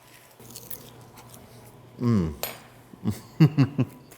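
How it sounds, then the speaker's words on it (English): A knife cutting a slice of medium-rare beef Wellington on a plate: faint scraping and sawing through pastry, followed by several short clinks of cutlery against the plate, close and quiet with a few soft sounds between. "I'm going to cut a slice for myself."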